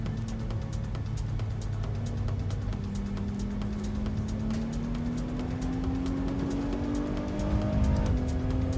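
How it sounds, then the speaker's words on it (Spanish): Porsche 911 GT3 RS engine racing in the Assetto Corsa game on the Nordschleife among a convoy of cars: a loud, continuous engine drone rising steadily in pitch as it accelerates, with other engines and tire noise around it. "Oh, como suena el Porsche"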